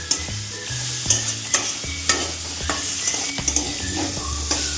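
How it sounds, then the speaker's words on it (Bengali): Masala fries in a pan for ghugni, a pea curry, with a continuous close sizzle and regular scraping stirs of a spatula against the pan, no voices. "মশলাটা একটু ভাজা হয়ে নে, তারপর দিয়ে দেবো।"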